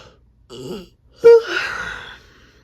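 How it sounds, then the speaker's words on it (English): A short vocal sound, then a single close, loud burp during a yawn that trails into a breathy, groaning exhale. "I always burp when I yawn."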